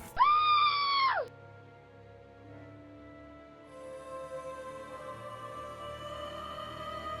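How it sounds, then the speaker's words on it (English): A shrill, piercing scream from a horror story sound effect, one loud sustained cry lasting about a second that cuts off abruptly, followed by a low eerie ambient drone. "Suddenly, a blood-curdling scream pierced the silence."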